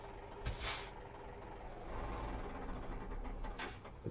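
A truck's air brake lets out two sharp hisses in Euro Truck Simulator 2, one early and one near the end, over a steady low idling engine drone.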